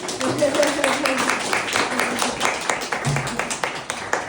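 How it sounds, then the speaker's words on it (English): An audience gives a round of applause, steady clapping from many hands sustained for a few seconds, with a voice briefly audible over it. "If you want to give them a round of applause."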